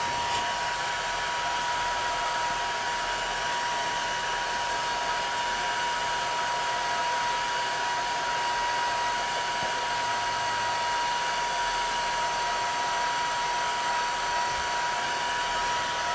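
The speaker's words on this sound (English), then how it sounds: "let me just dry this." A hair dryer blows steadily and loudly on a painting for the whole stretch, a constant even whoosh with a faint high whine and no talking.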